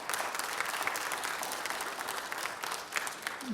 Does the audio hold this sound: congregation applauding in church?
yes